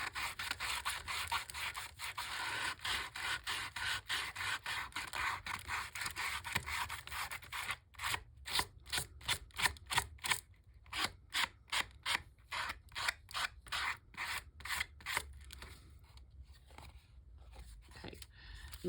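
Sandpaper rubs along the edge of altered paper guest checks, first as a continuous scratchy rasp and then as a run of quick, rhythmic back-and-forth strokes, close up.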